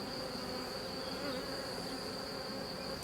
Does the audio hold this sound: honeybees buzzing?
yes